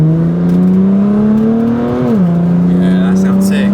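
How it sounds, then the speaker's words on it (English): A BMW M4 with a loud aftermarket exhaust drones at a steady, deep tone that dips sharply at a gear change and then resumes, heard from close by with people talking over it. "You can hear the change, the gear change going boom,"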